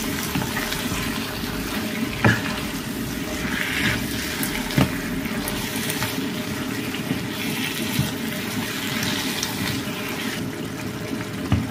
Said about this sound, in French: j'ai ajouté 200 ml d'eau là-dedans